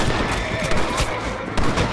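Red Dead Redemption gameplay with a dense, continuous barrage of gunfire during a frantic driving chase, sharp bursts recurring under a busy, noisy mix.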